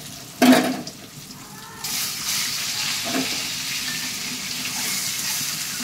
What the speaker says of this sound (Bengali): ডিম ভাজ দিয়ে দিচ্ছে